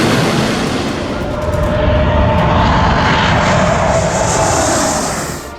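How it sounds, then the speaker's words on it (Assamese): Modern fighter jets practise landing on a public highway in Assam, a loud, continuous roar of jet engines that swells and then fades slightly as an aircraft passes close by. "দৈনন্দিন বাহন চলাচল কৰা ৰাজপথছোৱাত এতিয়া অৱতৰণৰ অনুশীলনত ব্যস্ত এখনৰ পাছত আন এখন অত্যাধুনিক যুদ্ধ বিমানৰ।"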